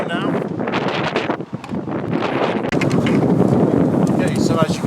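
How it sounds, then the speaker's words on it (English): Heavy wind at Harescombe Silvers Lake buffets the microphone throughout, a loud continuous roar with gusts, while a person talks underneath. "as you can tell, it is very, very windy"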